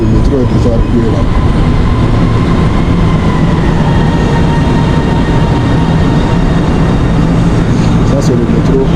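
A metro train in a station in China, a loud continuous rumble and rolling rattle of the carriages with a faint hum, while a person talks over it.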